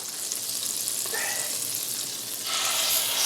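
Pot roast beef sears in a hot pan, giving a steady hissing sizzle that grows louder and brighter partway through.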